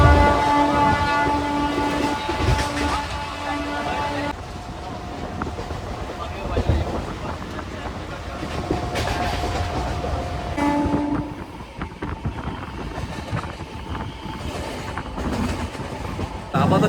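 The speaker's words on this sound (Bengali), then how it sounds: "আমার ট্রেন চলে আসলো সাঁতরাগাছি জংশন রেলওয়ে স্টেশন" A local train pulls into Santragachi Junction station, a long horn sounding loudly at the start and again later over the rolling rumble and clatter of wheels, with station noise and crowd sounds beneath.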